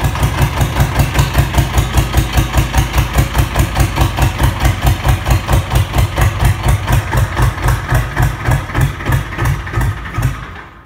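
A vehicle engine in cold weather, running after a second start attempt: a loud, steady, rhythmic low chugging idle that continues close throughout before stopping abruptly at the end.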